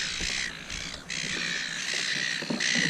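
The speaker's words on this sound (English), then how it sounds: "Let's get away from these yapping birds." Crows or similar birds cawing and squawking near the water at Cataract Gorge in Launceston, several repeated calls close by over steady outdoor background noise.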